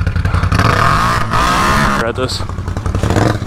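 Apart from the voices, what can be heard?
dirt bike engine running after exhaust was underwater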